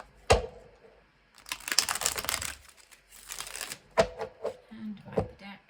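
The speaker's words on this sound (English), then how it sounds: "we'll do one last shuffle here" A deck of tarot cards riffles and slaps together in a few brisk shuffles, crisp and close, separated by short pauses.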